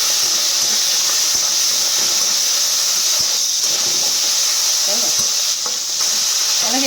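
Prawns fry in a hot pan in a home kitchen with a loud, continuous hissing sizzle and occasional stirring scrapes, while a voice briefly speaks.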